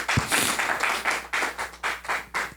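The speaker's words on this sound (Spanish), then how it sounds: "vamos a darle un aplauso a la ayuda idónea que Dios te dio" A church congregation applauds, giving brisk, fairly even rounds of clapping that fill the room at moderate volume, with no voices over it.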